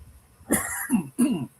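A man coughs three times in quick succession at close range, a harsh first burst followed by two rougher, throaty coughs on a podcast recording.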